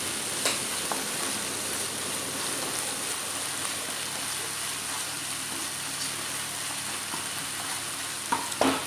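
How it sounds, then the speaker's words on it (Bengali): Onion fries in oil with salt in a pan, giving a dense, continuous crackling sizzle like steady rain that holds for the whole stretch, with a few clinks near the end and no voices. "এরপরে কিন্তু আমি এতে কিন্তু তেল দিয়ে একটু লবণ দিয়ে দিলাম পেঁয়াজে, এবার যাতে পেঁয়াজটা খুব সুন্দর করে ফ্রাই হয়ে যায়"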